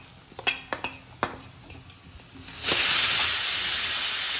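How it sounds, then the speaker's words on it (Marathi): Onion and potato sautéing in a pan for a home-style vegetable pulao: a few light utensil clinks against the pan, then a loud, steady hissing sizzle that fills the rest of the stretch. "आपला कांदा आणि बटाटा पण आता परतत आला आहे"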